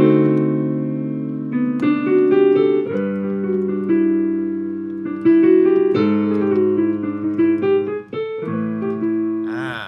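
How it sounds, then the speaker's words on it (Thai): A Pastel DK-390 digital piano plays with its piano voice, giving clear sustained notes and chords in a steady melodic passage, loud and close with no talking. "อันนี้คือเสียงเปียโนนะครับผม"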